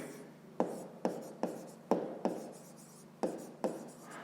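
A pen writes numbers by hand while a fifth-grade math exercise is solved, making eight or so distinct scratchy strokes at a steady pace, each with a sharp start and a fading rub, close and quiet with no talking.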